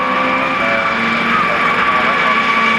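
A Caterham race car engine drones at low revs on a damp circuit during a 2000 Caterham Roadsports race, a steady, fairly loud tone with harmonic whine and no speech.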